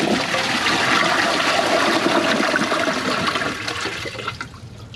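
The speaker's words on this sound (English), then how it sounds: "Let's give this a flush." A 2007 Kohler Highline Ingenium toilet with its original fill valve and wooden handle flushes loudly and up close, a strong rushing swirl of water that fades into a trickle and refill.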